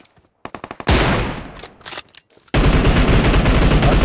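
PUBG Mobile gunfire with an M24 rifle: a quick run of sharp shots gives way to a louder blast and then dense, continuous firing that fills the rest of the moment.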